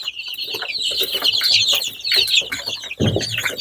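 Fourteen-day-old Andijan black chicks chirp and peep in rapid, overlapping high calls, close by, with occasional scuffling underneath.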